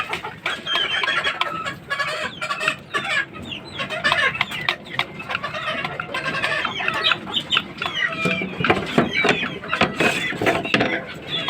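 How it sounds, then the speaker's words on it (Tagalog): Several gamefowl hens cluck and squawk nearby in a busy, overlapping chorus, with occasional sharp squeals and some faint talk in the background. "Ito yung mga inahin namin."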